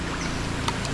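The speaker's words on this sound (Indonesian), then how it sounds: "Ada bunyi seekor perahu datang." A boat coming along a river, heard as a steady low rumble with light wind and water noise, fairly loud, brief, and with no talking.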